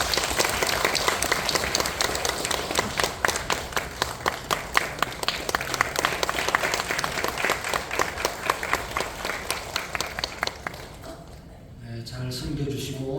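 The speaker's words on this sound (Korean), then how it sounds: "우리 박수하겠습니다." A church congregation at a Sunday service applauds in a rhythmic, unison clap, a loud and steady beat that stops near the end, after which a voice begins talking.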